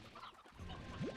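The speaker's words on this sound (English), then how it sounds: "So that does mean that I'm gonna just have a bunch of chickens." Chickens clucking inside a video game where resources are collected, a short close burst of fowl calls with a rising cry at the end, no talk over it.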